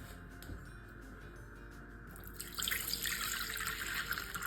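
Water runs from a tap into a container being weighed for gluten-free bread dough, faint at first, then a louder, steady close-up splashing stream from about the halfway point.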